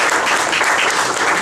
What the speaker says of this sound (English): An encouraging round of applause, everybody, for Dr. PILLAI.